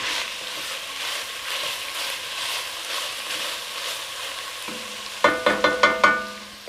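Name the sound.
onion cooking in a pan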